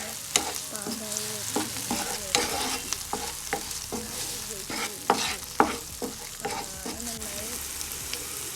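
Vegetables with garlic paste sautéing in a pan, a steady sizzle of frying broken by repeated scrapes and clatters of a spoon stirring against the pan, close and moderately loud, with no talking.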